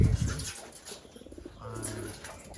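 Young pigeons in a loft give soft, low cooing calls close by, with a brief flutter or scuffle at the start and a quiet background.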